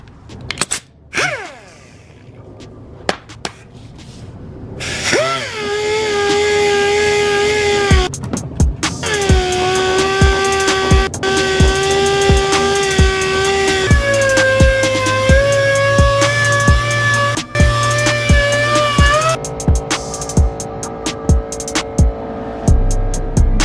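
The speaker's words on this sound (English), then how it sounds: "And then I'm using 1000 grit wet sanding paper." A power sander runs with 1000 grit wet sanding paper, its motor whining in a steady tone that shifts pitch as pressure changes, with sharp clicks and taps scattered throughout; nobody speaks.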